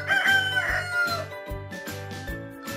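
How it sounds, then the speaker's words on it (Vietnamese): A rooster crows loudly and close by, its strained, ringing call rising and falling over nearly three seconds. "Gà."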